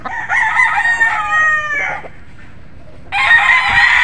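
A Golden Boy sweater rooster crows loudly nearby in two long calls separated by a short pause.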